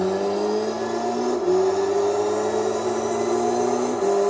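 Mazda RX-7 Type RS (FD) rotary engine in Gran Turismo 3, a sustained high whine climbing in pitch through two gear shifts, loud and close with a buzzing racing tone and no talk.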